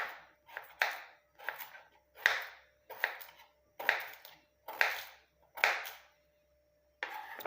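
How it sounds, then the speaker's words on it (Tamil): Beetroot is cut into small pieces on a board. About a dozen crisp, sharp knife chops land in an uneven rhythm, close and clear, with a short pause near the end before one last chop. "அரைக்கிற அளவுக்கு குட்டி குட்டி பீஸாக வந்து கட் பண்ணி போட்டுக்கோங்க"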